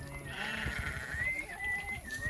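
A flock of sheep bleat at a dipping bath on a steppe farm in Kalmykia, several drawn-out wavering calls overlapping at moderate distance against a quiet background.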